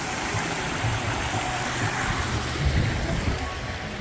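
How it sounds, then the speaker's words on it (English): A creek running past a hiker hostel on the Appalachian Trail, heard as a steady, broad rush of flowing water that stays close and even throughout, with no talking over it. "Got this creek running through it."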